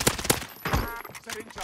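Gunfire from Call of Duty: Warzone comes in a few sharp bursts of automatic shots. The bursts are spaced apart and mixed with game sound effects and brief voice callouts.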